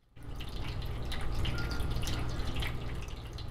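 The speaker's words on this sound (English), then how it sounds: "Yes, that is the cat water fountain." Steady trickling and dripping water from a cat water fountain, continuous and fairly close, starting abruptly and running without pause.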